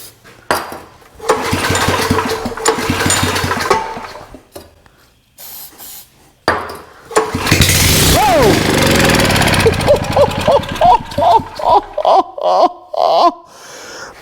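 Starting spray hisses into an old generator in loud bursts, then the engine cranks, sputters and catches, running roughly with a pulsing, uneven beat toward the end.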